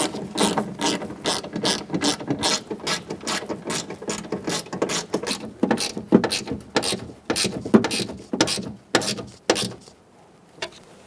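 A ratchet clicks in quick repeated strokes while tightening bolts on a Honda CR rear power window motor, close and crisp, with short pauses between runs before it stops near the end.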